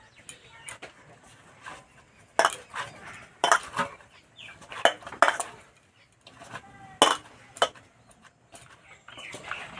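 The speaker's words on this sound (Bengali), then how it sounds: "অল্প একটু ঘি দিয়ে সুজিটা ভালো করে মেখে নেব।" Cooked semolina worked with a little ghee in a pan for pulli pitha, giving sharp metal scraping and clinks of a spoon against the pan in irregular bursts, close and fairly loud, with no talking.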